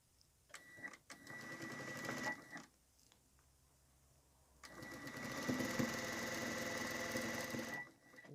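A sewing machine stitches small lace onto a cotton tissue box cover in close, steady mechanical bursts. The runs of stitching are separated by short pauses, and no voice is heard.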